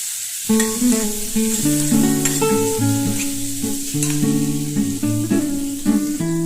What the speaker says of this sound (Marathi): त्यामध्येच आपण चेचून घेतलेले अद्रक लसूण पण टाकूया आणि व्यवस्थित ह्याला परतवून घेऊया आपण